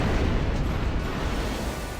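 Laser cannons firing in Armored Core: For Answer, heard as a loud, dense rumbling roar that fills the whole two seconds, with no clear talking.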